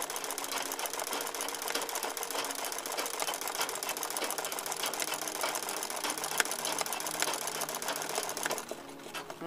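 A sewing machine stitches a filled satin embroidery flower for a cushion, a steady, loud, rapid mechanical whirring with dense rhythmic needle clatter running continuously before easing off near the end.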